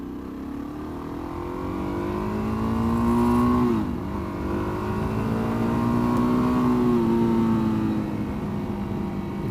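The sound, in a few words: Suzuki DRZ motorcycle engine while riding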